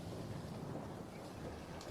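A boat ride at sea in a sound-effect bed: steady wind rush and washing water surround the listener in a dense, even wash of noise, with no talking.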